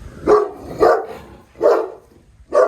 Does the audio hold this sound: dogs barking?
yes